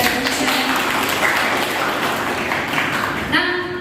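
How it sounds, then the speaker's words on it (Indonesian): A university physics class on electromagnetic induction claps for a student. The applause is moderate and steady, and a voice begins talking right at the end. "tepuk tangan kepada Sylvia"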